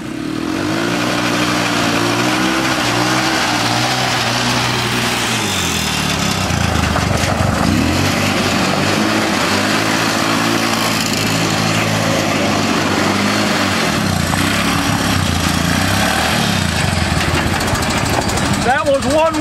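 A 1969 Roof Palomino lawn mower mini jeep with new tires runs loud and close, its small engine droning and revving up and down steadily throughout, while a person talks over it.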